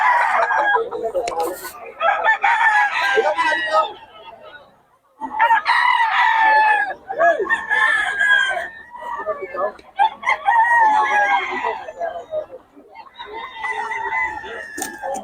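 Several roosters at a gamefowl market in Bocaue crow repeatedly, their loud, strained calls overlapping and broken by short pauses and clucks, with people talking nearby.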